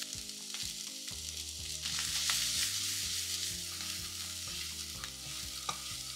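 Boiled mixed vegetables with turmeric being stirred in a hot pan, producing a continuous close sizzle and faint scraping, with steady cooking noise throughout.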